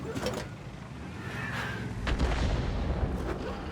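Distant booming artillery fire rumbles through World of Tanks battle ambience, with a few muffled blasts and a low continuous drone.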